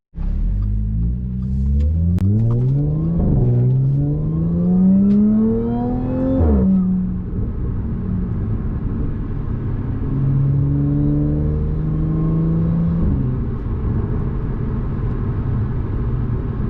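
A Mercedes car drives and accelerates hard on twisty back roads, the engine note climbing steadily through gears with upshifts near 3, 6.5 and 13 seconds, a loud continuous in-cabin drone with no talking.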